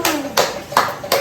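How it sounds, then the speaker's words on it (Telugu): Four sharp hand claps at a steady, moderate pace, close and fairly loud, in a home kitchen setting. "చప్పట్లు."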